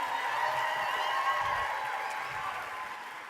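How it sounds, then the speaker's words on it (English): Audience round of applause for presenters at a coach summit, a steady wash of clapping heard at moderate level with a tonal ringing hum running through it, fading gradually toward the end. "One more big round of applause for Scottie"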